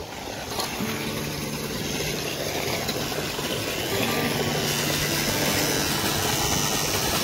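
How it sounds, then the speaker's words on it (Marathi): An irrigation water pump motor runs steadily on a farm watering banana plants, a continuous loud engine-like drone with a low hum throughout, no talk over it. "आता मोटर चालू केलेली आहे"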